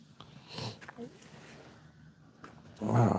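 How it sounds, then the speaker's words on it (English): A person blowing their nose with a hand cupped over the microphone, producing muffled snorting bursts near the start and a louder, closer honk at the end. "Trying to put my hand over the mic when I blow my nose."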